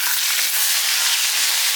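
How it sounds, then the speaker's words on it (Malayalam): Mustard seeds spluttering in hot oil for a potato curry, a dense steady crackle of tiny pops that fills the whole stretch evenly, close by and with no voices. "എണ്ണ ചൂടായത് വളരെ പെട്ടെന്ന് തന്നെ കടുക് പൊട്ടാൻ തുടങ്ങിയിട്ടുണ്ട്"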